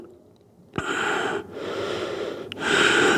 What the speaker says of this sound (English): breathe in, breathe out there